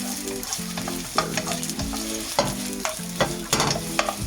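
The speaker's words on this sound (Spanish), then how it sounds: "vamos a sofreír esta cebollita un poquito" Spring onion sautéing in a pan for fried rice, a steady loud sizzle broken by repeated scraping and tossing strokes of a utensil at irregular intervals.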